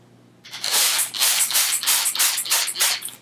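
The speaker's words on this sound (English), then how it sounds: "and spray it." A quick series of about seven sharp, hissing spray bursts from a spray bottle misting a hoya cutting inside a plastic bag, evenly paced, close and fairly loud, following a brief quiet start.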